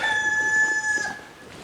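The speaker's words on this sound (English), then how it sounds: "that's what the life in the village sounds like, with the roosters and the donkeys sometimes" A single rooster crows from some distance in a village, a clear drawn-out call that fades into quiet outdoor ambience.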